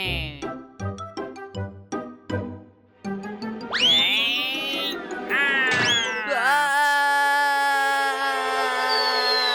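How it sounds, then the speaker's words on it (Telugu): A cartoon cat in an animated Telugu kids' show gives drawn-out, sliding meows after a run of short bouncy musical notes, followed by a sustained wavering tone. "పిల్లిని చూసి నువ్వు భయపడాలి."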